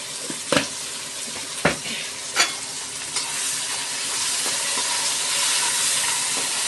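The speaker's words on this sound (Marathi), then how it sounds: "कांदा परतला आपण हे टोमॅटो घालूयात टोमॅटो मीठ घालूयात" Onion, tomato and salt sizzling in a pan, with a steady frying hiss broken by a few sharp scrapes of a stirring spoon.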